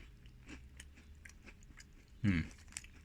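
A thin, crumbly, crispy Japanese apple-caramel snack being chewed close up, with faint soft chews and then one sharp crunchy bite near the end, very quiet overall.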